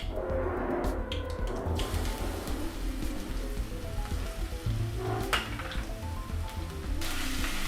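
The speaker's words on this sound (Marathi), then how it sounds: "थोडा फ्राय करून घेऊ लसूण" Crushed garlic fries in hot oil in a pan as tempering for a red amaranth leaf dish. A steady, close sizzle with a dense crackle runs throughout, with brief louder pops and no voices.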